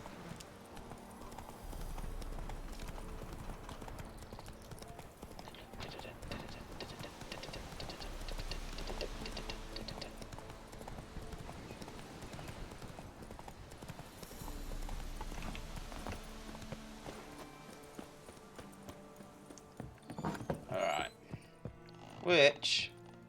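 Geralt's horse Roach gallops in The Witcher 3 with steady, rapid hoofbeats throughout, a voice briefly speaking over the ride and a few sharp sounds near the end.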